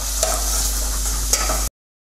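Steady sizzling of onion frying in olive oil and butter, with a couple of light scraping stirs, then abrupt silence.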